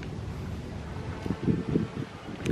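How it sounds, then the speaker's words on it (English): A breeze blows across a river boardwalk at Walter Jones Historical Park in Mandarin, Jacksonville, Florida. It makes a steady low rush of wind with gusty buffeting on the microphone and no speech. "It's a little breezy"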